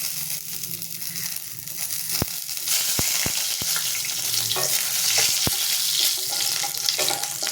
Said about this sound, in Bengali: তেজপাতা দিলাম শুকনো লঙ্কা দিলাম